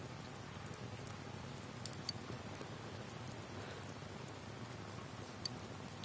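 Rain falling in the video game Persona 4 Golden, a quiet, even hiss of steady rainfall with a few faint droplet ticks, heard alone.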